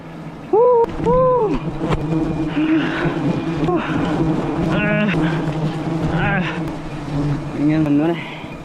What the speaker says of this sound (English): Thousands of bees smash, but he stays calm.